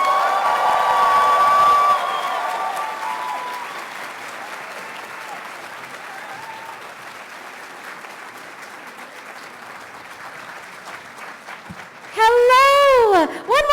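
Audience applause at a Star Wars books panel at New York Comic Con, loud clapping that fades into scattered claps, then a sharp burst of cheering and whoops near the end.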